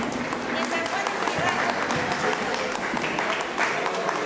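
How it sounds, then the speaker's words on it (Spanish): Audience applause at a televised Peruvian event, a steady wash of clapping that fills the whole moment with voices mixed in underneath. "¡Un aplauso!"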